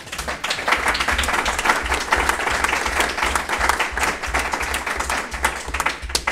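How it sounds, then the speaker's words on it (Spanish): A university debate audience bursts into sustained applause: dense, loud clapping from a crowd that carries on steadily for several seconds without pause. "Un aplauso."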